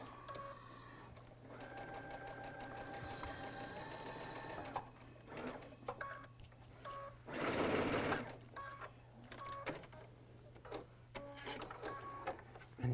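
A sewing machine stitches a quilt patch, its needle chattering in steady bursts that pause and restart as the fabric is advanced, with one louder whirring run in the middle and faint speech now and then.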